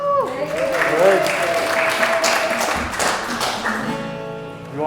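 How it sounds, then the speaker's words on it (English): A live audience cheers and applauds for the Grannies at a Battle of Homestead event, with dense clapping and whoops that swell and hold steady for several seconds alongside a voice speaking. "Cheer for the Grannies."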